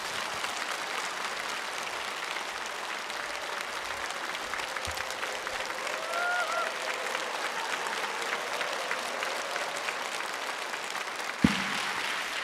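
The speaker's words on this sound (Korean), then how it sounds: "목사님 나오실 때 큰 박수로 환영을 하실까요?" A church congregation gives a long, steady round of applause to welcome the pastor, a dense even clapping from a large indoor crowd that continues throughout with no break.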